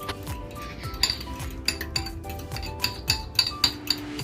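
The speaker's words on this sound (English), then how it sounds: "So you're gonna beat all the egg." Eggs are beaten in a bowl for scrambled egg, with quick, irregular clinks of a utensil against the dish and a few sharper taps standing out.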